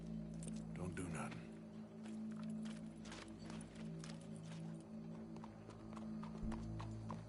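A horse clip-clops along in Red Dead Redemption II, its hoof beats under game dialogue and ambient noise, with scattered clicks and thuds over a steady low background.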